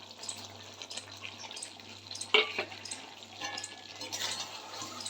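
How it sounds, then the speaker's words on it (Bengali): Onion fried crisp with bay leaf and spices being stirred and sautéed over low heat for chicken kosha, a steady soft sizzle with scraping spoon strokes and one sharper clink near the middle, no voices. "খুব সুন্দর করে আমি এখন একটু আঁচটা কম রেখে ভালো করে আগে কষবো"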